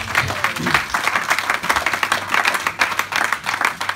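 A church congregation applauds the Lord during a sermon, with dense steady clapping across the whole span and a few scattered voices underneath.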